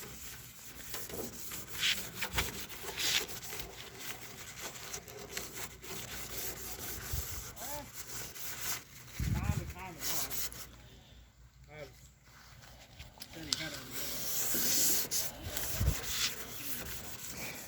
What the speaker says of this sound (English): On this paper towel, and I'm just kind of going over the aluminum